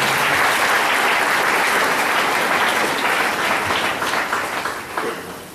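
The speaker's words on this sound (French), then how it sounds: "Applaudissez pour faire comprendre le Seigneur." A church congregation bursts into sustained, dense applause, loud and even for several seconds before tapering off toward the end.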